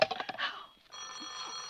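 A telephone in a radio drama rings with rapid metallic bell trills, a short burst, a pause, then a sustained ringing tone, clear and close with no voices over it.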